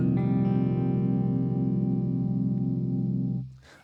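An electric guitar playing a clean tone through the Archetype Nolly amp plugin, a sustained chord ringing with slight chorus-like shimmer for several seconds before being cut off with a short scrape.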